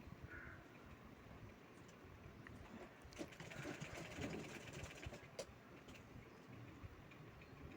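A sewing machine stitches a fabric belt onto an old saree with a faint, quiet rapid ticking and whirring that rises briefly in the middle and then continues softly.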